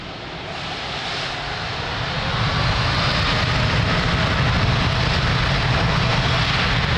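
An Etihad airliner taking off from runway 02 at Lisbon Airport, a loud, broad jet engine roar that swells over the first seconds and then holds steady and powerful.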